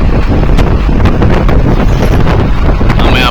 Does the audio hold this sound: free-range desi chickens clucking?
no